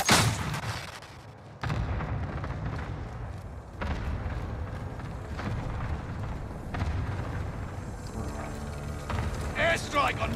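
Gunfire and booming explosions in a battle royale video game match pound under heavy talk, with sharp blasts and sustained rumble over the whole stretch.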